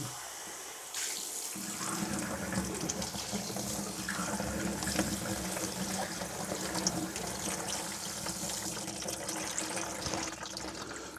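Dirty water pours and splashes steadily from an opened kitchen sink trap down into a bucket, a continuous close liquid rush lasting throughout with no talking.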